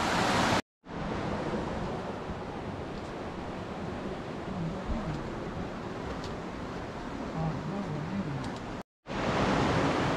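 A small, partly frozen river flows through Capitol Reef, Utah, with open water running down the middle. It makes a steady, close rushing roar with no voices, and the sound cuts out briefly near the start and end.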